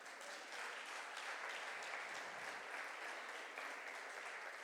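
A church congregation applauds for the Lord during a sermon, a broad, even wash of many hands clapping at once, steady and somewhat distant, with no voices rising above it.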